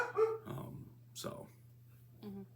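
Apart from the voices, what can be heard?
dog barking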